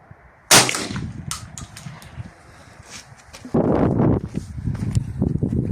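A Stoeger M3500 shotgun with a 71 cm barrel and choke 4 fires a size 6 shot test round at a 30 m range, giving one sharp, loud report followed by clattering handling noises and a second burst of rough noise.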